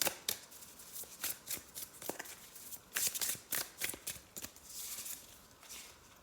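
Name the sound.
shuffling astrology cards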